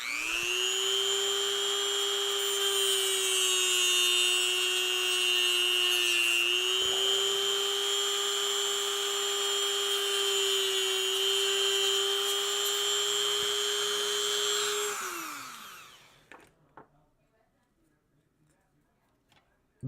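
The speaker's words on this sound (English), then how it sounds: "Dremel!" Dremel rotary tool trimming feathers off a painted Blood Angels miniature, a loud steady high-pitched whine that dips briefly mid-run, then spins down and stops, leaving faint taps in near silence.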